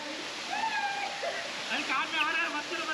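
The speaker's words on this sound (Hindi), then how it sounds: "आप झरने की आवाज़ सुन सकते हैं।" Ranijharna waterfall in Korba sends up a steady, broad rush of falling water, heard close and constant while someone talks over it.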